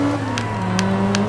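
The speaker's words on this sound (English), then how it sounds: "Drifting." A 2003 Toyota APR Performance Celica GTS drifting in the Forza 2 racing game, engine droning steadily with thin tire squeal and brief sharp clicks over about a second.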